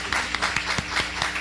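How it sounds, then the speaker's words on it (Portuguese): Audience applause at a Brazilian public forum on health financing, a short burst of continuous clapping from a crowd with a few sharper individual claps standing out. "Eu pediria uma salva de palmas."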